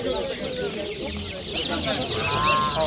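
Geese and roosters call at a busy poultry market, their harsh honks and crowing rising over a dense crowd murmur and nearby voices.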